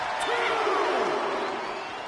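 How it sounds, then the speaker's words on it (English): Arena crowd in WWE 2K23 roaring and cheering during a wrestling match, a loud steady wash of noise that fills the whole clip and fades slightly toward the end, with a commentator talking over it. "The sound of this crowd is deafening"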